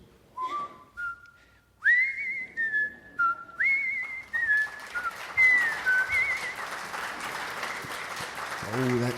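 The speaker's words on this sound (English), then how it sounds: "you're not making any enemies when you're whistling a song like that" A person whistles a bright, lilting melody up close, the clear notes stepping up and down in quick phrases.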